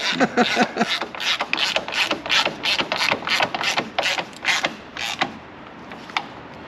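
A hand ratchet tightens bolts on a wagon during a rebuild, making a quick run of loud, close metallic clicks that slow and fade into a few last ticks.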